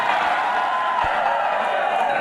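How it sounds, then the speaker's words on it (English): A rowdy crowd cheers and whoops in a steady, continuous roar that fills the room without pause, with some voices mixed in. "This is a rowdy crowd."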